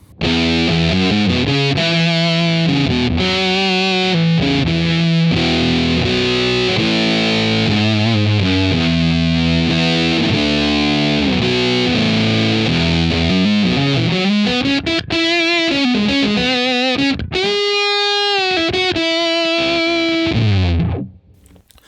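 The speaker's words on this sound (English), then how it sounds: "So it's a pretty straightforward fuzz sound." Thick, grainy fuzz-distorted electric guitar playing a continuous riff, loud and saturated throughout, with a short break in the tone near the end.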